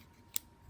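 A single sharp snip as cutters bite through a bicycle shifter cable's bullet connector, one brief close click in an otherwise quiet moment.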